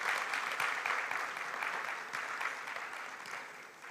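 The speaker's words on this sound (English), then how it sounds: "Let's give them a round of applause." Audience applause fills a large university hall at a conference closing, a dense, steady wash of clapping that holds strong throughout and eases slightly toward the end.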